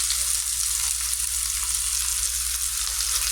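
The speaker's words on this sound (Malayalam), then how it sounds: "പുരട്ടി വെച്ചിരുന്ന മീനും കൂടി ഒന്ന് വെച്ച് കൊടുക്കാം." Marinated fish frying in a pan over low flame, giving a steady, close hiss and crackle of hot oil that continues unbroken throughout.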